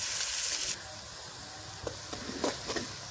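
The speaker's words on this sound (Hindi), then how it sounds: "अब इन तीनों चीज़ों को अच्छी तरह प्याज, लहसुन, अदरक को अच्छी तरह मैंने ब्राउन करना है" Onion, garlic and ginger frying in a pan for a fish curry: a loud, hissing sizzle at first that soon drops to a softer, steady fry, with a few light stirring knocks near the end.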